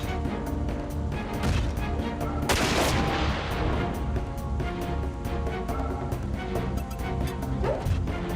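Gunfire aimed at a mech's legs in the mecha game Front Mission 4, dense and continuous with rapid repeated shots, a louder crashing burst partway through, and no talk over it.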